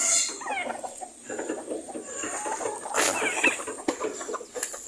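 Backyard pet chickens cluck and chatter continuously at close range, overlapping calls and squawks forming a busy, uneven flock noise with no voices.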